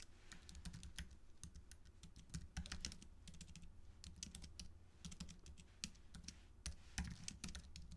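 Steady, quick keystrokes on a computer keyboard during a coding session, rattling out in uneven bursts of soft clicks with brief pauses. Fairly quiet and close, with no talking.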